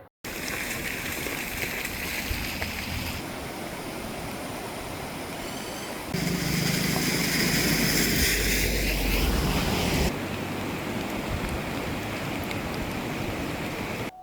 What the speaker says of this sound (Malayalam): ശക്തമായ വെള്ളപ്പാച്ചിലാണ് പുഴയിൽ അനുഭവപ്പെടുന്നത്